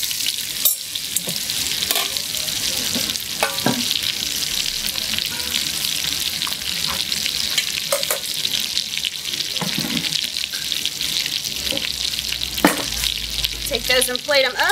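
Fingerling potatoes tossed with fresh dill sizzle steadily in a hot pan, a continuous bright frying hiss with occasional clinks and scrapes of stirring, and no speech.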